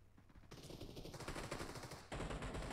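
Rapid automatic gunfire in a video game shooter, loud and dense bursts that swell around the middle and hit hardest near the end, with no talking.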